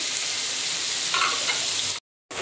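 Onions sautéing in a pan for Chettinad-style chicken chinthamani give off a steady, close, broadband sizzle that cuts off abruptly into a brief silence before returning.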